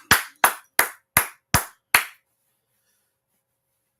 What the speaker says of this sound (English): All right, so let's clap it up.